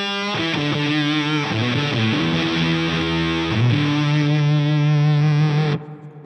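Electric guitar harmonic played through an octave effect, a distorted sustained chime layered with shifting overtones that rings for several seconds before stopping abruptly.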